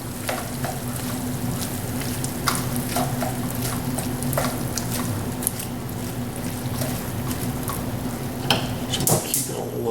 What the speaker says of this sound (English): I'm just going to stir all this up